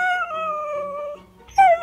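A dog howls in a long, wavering, mournful tone that slides downward, breaks off briefly, then returns with a rising whimpering howl, close and loud with no talking.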